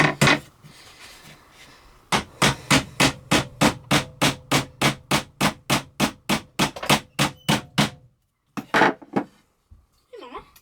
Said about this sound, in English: I want to come right off the edge of my table a little bit and just hammer in my nails.